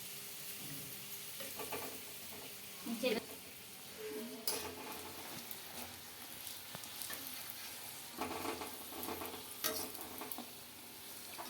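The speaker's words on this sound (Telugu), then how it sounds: "ఇట్లా ఫ్రై చేసుకోవాలండి అంత వైట్ కాదు అంత రెడ్డి కాదు నార్మల్గా ఉండాలి" Coconut and sugar-filled kajjikayalu frying in hot oil, a soft continuous sizzle with occasional spoon clinks and turning sounds, faint and close, with a voice talking quietly at times.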